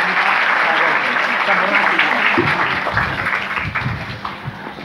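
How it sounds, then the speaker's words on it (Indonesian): An audience at an Indonesian community gathering breaks into loud, sustained applause, dense clapping filling the whole stretch and thinning slightly toward the end as a voice begins underneath. "Tepuk tangan untuk beliau"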